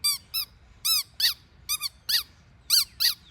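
A squeaky dog toy squeaked repeatedly by a service dog during an evening training routine, sharp high-pitched squeaks coming in short single and double bursts, close and loud, with no talking.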